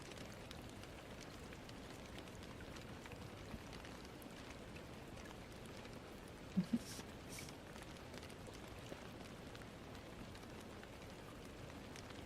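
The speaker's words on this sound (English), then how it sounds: "it's been raining all day. I think y'all can hear that." Rain falling outside, a steady soft patter and hiss at low volume that stays even throughout, with one faint brief knock partway through.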